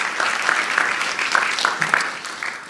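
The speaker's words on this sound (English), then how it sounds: "Please give Denise a round of applause" An audience at a community meeting about an entertainment and sports arena breaks into sustained applause, a dense wash of clapping hands with a few sharper individual claps standing out, steady and fairly close throughout.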